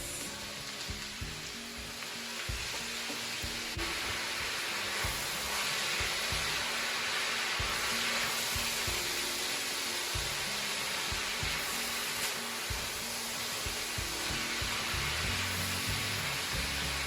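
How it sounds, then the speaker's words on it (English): Sweet peppers and peas frying on high heat in a pan, a loud, steady sizzle and hiss that carries on without break, with no talk over it. "So make sure you fry the vegetables with high heat"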